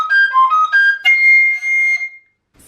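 Recorder playing the original written ending of Bach's Partita for solo flute BWV1013, a solo line of clear sustained notes stepping upward to a bright high C held near the end, then silence.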